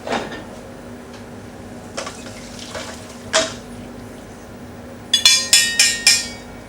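Blanquette stew poured through a colander in a kitchen, with water splashing and draining beneath scattered metallic knocks, ending in a quick run of bright pan clinks and clanks.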